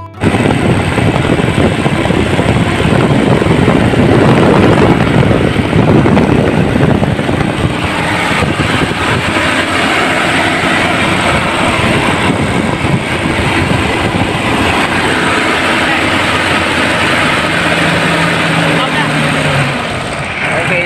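An engine running after repair, a loud rough mechanical clatter and rumble that carries on throughout, somewhat steadier later, with people talking nearby.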